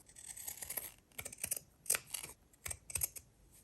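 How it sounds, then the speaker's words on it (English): Scissors snip through paper in a short run of sharp, close, quiet cuts, in irregular bursts with brief pauses between them. "I want to cut this out so that I can see the polka dots."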